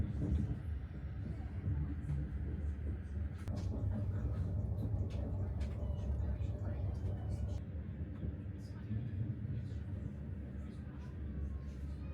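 Diesel generators in the middle car of a FLIRT train give off a loud, steady low rumble and drone that runs without a break, with faint rattles and clicks on top.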